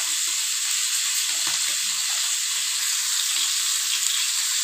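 Bangda mackerel fish frying in a pan over medium heat, a steady, loud sizzle and hiss that fills the whole clip with no voices.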